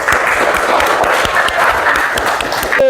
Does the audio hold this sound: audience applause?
yes